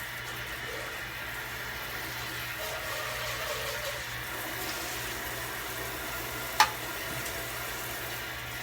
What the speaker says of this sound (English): and just rinse it.